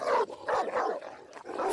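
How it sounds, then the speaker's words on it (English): A large dog lets out several loud, close barks in quick succession, harsh and growly, heard alone without any talk. "Suddenly, there is a loud bark from the dog."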